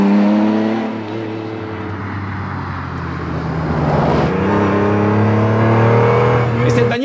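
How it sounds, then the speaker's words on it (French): A Mercedes-Benz CLK GTR race car engine drones and revs loudly, pitch sliding and rising into a strong sustained roar near the end, with a voice talking over it. "Ça sera la CLK GTR, qui est probablement encore aujourd'hui la bagnole la plus badass jamais produite par Mercedes-Benz."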